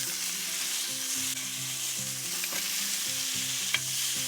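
Steaks searing in a hot pan just after being flipped, a strong steady sizzle and crackle up close, with a low tonal hum underneath and a single sharp tick near the end; no voices.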